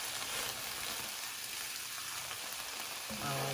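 Cauliflower and chicken frying in a pan, with a steady, close sizzling hiss that runs unbroken the whole time.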